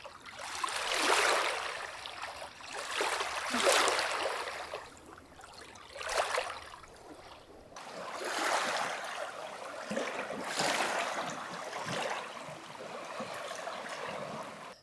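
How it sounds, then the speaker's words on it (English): Soft water lapping against a lake shore at a mountain-side rec site, gentle swells rising and falling in slow washes, steady and close with no voices. "And the gentle waves lapping on the shore are very relaxing."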